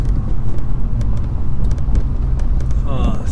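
A home-built Audi A3 1.8T drones steadily from inside the cabin while driving fast on the road, its engine note mixed with road and wind noise.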